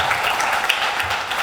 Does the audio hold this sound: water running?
no